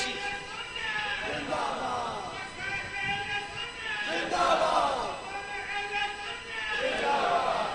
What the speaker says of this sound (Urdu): نعرہ یہی دوبارہ پھر لگاؤ